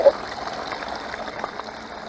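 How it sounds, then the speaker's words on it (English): Fast-moving water streams and trickles steadily while gold concentrates are being cleaned, a continuous close wash of flowing liquid with small splashy bursts and no talking. "that water's moving so fast"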